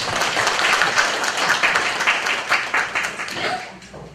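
A church congregation applauds the pastor at a thanksgiving service for a prayer house opening, a dense, steady wash of clapping from many hands that thins out toward the end.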